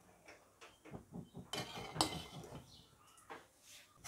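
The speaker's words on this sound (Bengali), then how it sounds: "চুলায় আবার কড়াই বসিয়ে দিয়েছি," A wok (kadai) is set back on a kitchen stove with a cluster of close metallic clanks, scrapes and clinks, including one sharp bang, among softer rattles and no talking.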